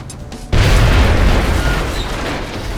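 A frag grenade goes off in the video game XCOM Long War, a sudden loud deep boom that rolls on as a sustained rumbling blast.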